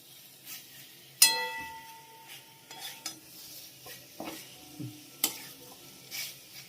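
Boiled potatoes being sautéed in a pan while cooking an egg curry, with a sharp metallic clink of a utensil followed by intermittent scraping stirs and a faint sizzle, close and fairly quiet, no talking.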